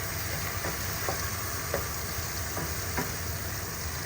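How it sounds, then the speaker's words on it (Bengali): Raw onions frying with spices in a home kitchen pan give a steady, close sizzle with a few soft stirring scrapes, no voices. "পেঁয়াজটাও দিয়ে ভেজে নিচ্ছি।"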